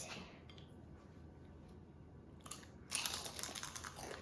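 Crisp, close crunching bites into rolled fried potato tacos, with loud crackling breaking through near the end over a quiet background.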